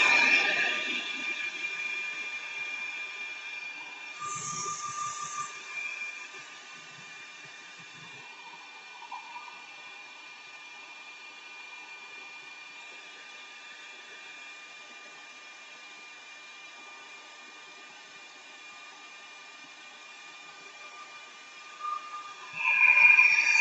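A hair dryer blows on fresh paint in a steady, faint whir. It holds one even pitch for most of the time and swells slightly louder near the end.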